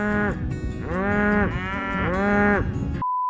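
Cows low in a series of long, loud, close moos, about three drawn-out calls in a row on a homestead, ending abruptly in a steady tone.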